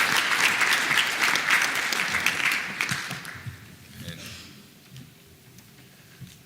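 Audience applause for presenters at a statistics conference: loud, dense clapping from a large room that tapers off after a few seconds, leaving a few scattered claps and quiet room tone.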